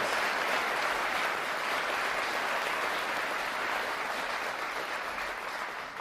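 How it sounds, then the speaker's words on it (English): A crowd at a vice-presidential speaking event in Michigan applauds in a thick, unbroken roar of clapping that holds steady for six seconds and eases slightly at the end. "I hope all of us will give a big round of applause"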